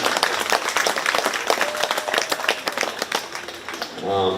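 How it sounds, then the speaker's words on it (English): Audience applause in the stands at a county fair 4-H sheep and goat show, a dense patter of claps running steadily throughout, with a voice heard over it briefly near the end. "Let's give these two gals a round of applause too"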